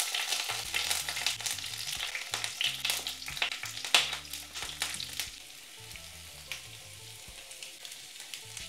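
Stuffed ridge gourd and curry leaves fry in oil in a pan over a low flame, giving a steady soft sizzle with crackles and a few stirring clicks. A faint tonal hum runs underneath.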